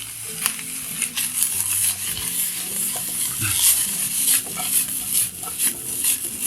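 Chilli dropped into a pan for bacon and cauliflower pasta fries with a bright crackling sizzle, while a utensil scrapes and stirs close by amid faint clatter.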